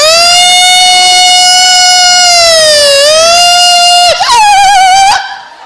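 A voice imitates a VIP convoy vehicle siren with a long, loud, sustained wailing tone that dips and rises, then warbles rapidly before breaking off, heard alone before a stage crowd.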